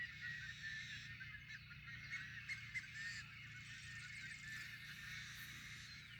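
Many geese honk nearly nonstop in a steady, noisy chorus, with overlapping calls at a moderate distance over a constant low background rumble.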